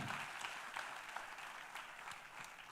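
An audience applauds steadily, a dense crackle of clapping hands that stays even for a few seconds without talk.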